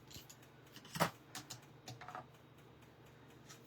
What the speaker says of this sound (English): I'm just going to trim this off right there